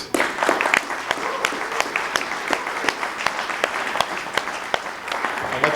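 Audience applause for a state senator's legislative update, a continuous bed of crowd clapping punctuated by crisp, loud individual claps close by, with faint crowd murmur underneath.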